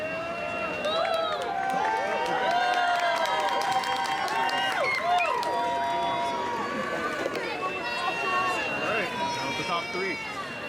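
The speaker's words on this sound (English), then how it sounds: "Round of applause for all of our cosplayers who entered into the competition." A crowd at an anime convention cosplay competition cheers and applauds, with loud whoops and shouts rising over clapping throughout.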